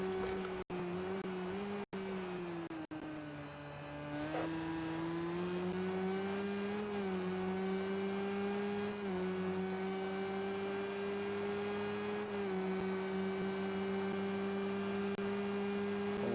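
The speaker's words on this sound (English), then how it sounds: "high pitch engine noise from this car." Porsche GTE race car engine in Project Cars 2 at Le Mans, a loud, high-pitched continuous whine heard from on board that rises and falls slightly with throttle, with a few abrupt cuts early on.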